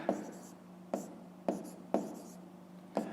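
A pen writes a fraction by hand on paper during a fifth-grade math exercise, giving short scratchy strokes in five or six separate bursts spaced about half a second apart, close and fairly quiet.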